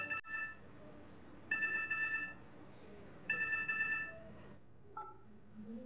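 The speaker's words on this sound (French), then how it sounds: "j'ai oublié de mettre mon téléphone sur silencieux" A mobile phone ringtone sounds during a funeral, with short repeated electronic bursts at a moderate distance amid quiet room noise.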